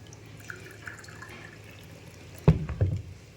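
Water is poured from a measuring cup into a bowl while dhokar dalna is being made, a brief close splash and trickle arriving near the end after a quiet, low room hum.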